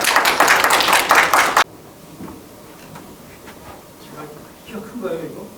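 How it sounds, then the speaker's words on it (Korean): A forum audience at a Wonju media center event bursts into dense applause welcoming the center's director, loud for about a second and a half before cutting off abruptly into quiet room tone with faint scattered movement. "큰 박수로 맞이해 주시기 바랍니다"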